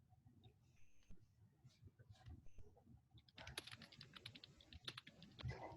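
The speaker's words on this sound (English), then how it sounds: "Someone's typing." Computer keyboard keys clack in quick, irregular bursts, fairly quiet and close, growing busier partway through, with faint soft background noises.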